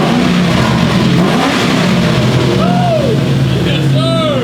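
A 200,000-mile Ford Mustang engine revs hard and steadily, close and loud, with a rising whine and a few faint voice-like chirps toward the end.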